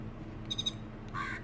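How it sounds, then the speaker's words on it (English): A Bluey Wackadoo kids' watch gives a faint electronic squawking alert, three quick chirps followed by a brief tone, heard close and quiet with no talk. "and then 5 seconds it squawks 3 times."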